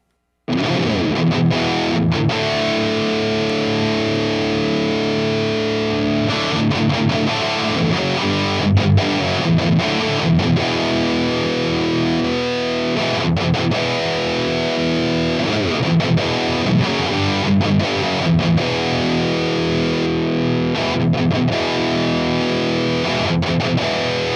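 A heavily distorted electric guitar played through a Lickliter Scalpel distortion pedal, sustained chords and riffs continuously, thick and buzzy with a gritty, saturated edge.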